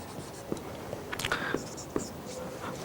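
Chalk or marker strokes on a classroom board during a physics lesson, short scratchy taps and squeaks spaced irregularly, fairly close, with soft background murmur.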